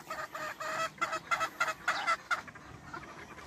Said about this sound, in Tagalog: Ang daming inahin.